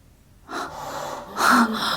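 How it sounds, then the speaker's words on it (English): Heavy breathing inside a haunted house, a short burst of sharp airy inhalation partway through, then a louder gasp-like breath near the end, close and unaccompanied by talk. "And then the breathing afterwards."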